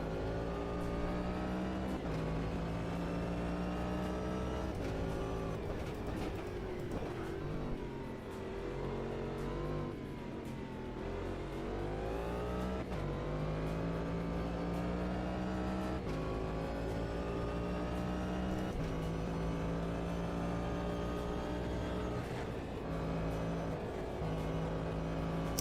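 A race car in the Automobilista 2 driving game holds a loud, steady engine drone with rising and falling revs and odd tyre noise underneath, continuous through the run with no talking.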